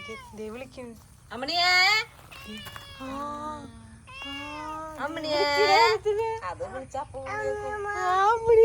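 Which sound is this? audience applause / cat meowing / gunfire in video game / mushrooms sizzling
cat meowing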